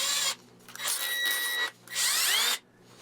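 An electric drill spinning a square wooden stick just over a quarter inch wide whirs in two bursts, spinning up and winding down with a brief pause between, loud and close.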